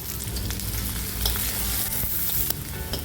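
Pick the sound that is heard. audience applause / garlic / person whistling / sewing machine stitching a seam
garlic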